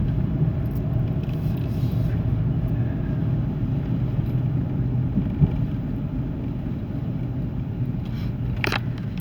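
A 2005 Jeep Liberty Renegade cruises down the road, its engine and tire rumble steady and close from inside the cabin, with a brief sharp noise near the end and no talking.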